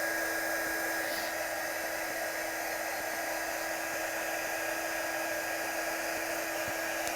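A hair dryer blows steadily and loudly for several seconds, drying ink or paint on a rubber stamp on a craft table, with a continuous airy whoosh and motor whine and no talking.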